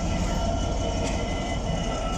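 An EWS locomotive with DB branding runs past on the railway in a steady, loud rumble that carries on without a break, with no voices over it.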